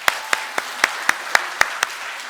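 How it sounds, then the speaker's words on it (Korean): A church congregation claps in slow, evenly spaced unison, about eight sharp claps in a row during a Sunday service. "우리 박수로 격려하겠습니다."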